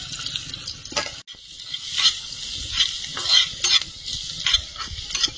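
Dried chili, whole cumin and garlic sizzle in very hot oil in a pan, with a steady bright hiss broken by scraping stirs and a brief cut near the start, and no talk.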